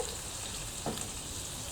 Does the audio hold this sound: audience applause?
no